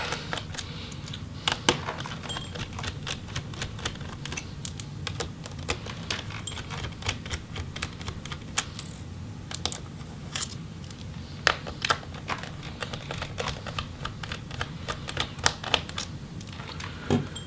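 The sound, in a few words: removing screws from Lenovo Legion Y7000P laptop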